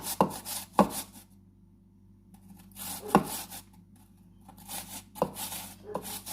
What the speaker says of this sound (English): I'm just going to grate a little bit of onion in them. Just use the grater